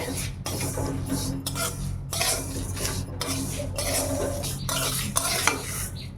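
Moong dal with bay leaves dry-frying in a pan for a fish-head dal, stirred hard with a spatula in repeated scraping bursts over a low sizzling hiss, close and loud.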